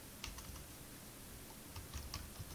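Typing Java code on a computer keyboard, faint scattered key clicks in short clusters, buried in a loud steady hiss of background noise.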